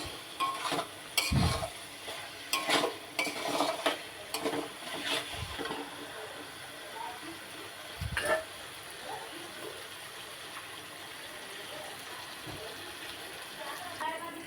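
Whole garlic cloves stir-fried in oil with browned masala for Bengali mutton curry: a scraping spatula stirs in irregular bursts over a steady low sizzle, with faint talk in the background.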